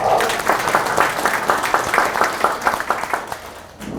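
Attendees at a party members' meeting in Pohang clap together in a loud round of applause, with rhythmic beats standing out before it fades near the end.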